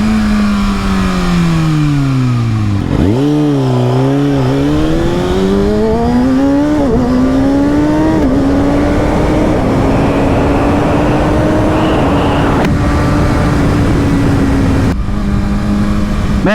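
A 2019 Kawasaki Ninja ZX-6R sport motorcycle riding at speed, its engine loud and close with a high steady whine that dips and climbs through throttle changes and gear shifts, with constant wind roar and no talk.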